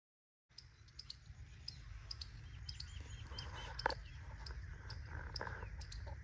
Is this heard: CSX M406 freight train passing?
no